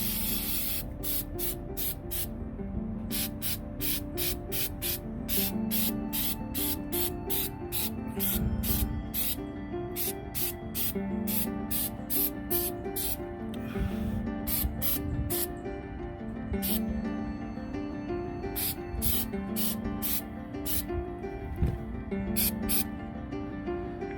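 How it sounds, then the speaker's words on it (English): Short bursts of rust-cover aerosol spray hiss repeatedly onto a rusty semi truck chassis, fired in quick rhythmic pulses with pauses, over a steady low rumble of background noise. "So I'm gonna use the spray."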